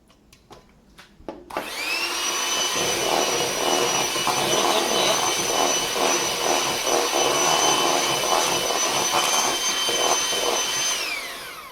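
Electric mixer whirring loudly and steadily as it mixes cake batter with flour mixture for a pear, raisin and almond cake, starting after a few taps and running close for about ten seconds.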